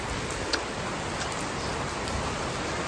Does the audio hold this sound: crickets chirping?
no